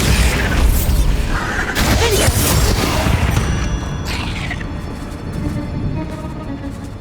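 A Bombarda blast spell from the video game Hogwarts Legacy erupts in loud, booming explosive bursts with crashing debris and a mechanical rumble, sustained over several seconds with a sharp second blast midway.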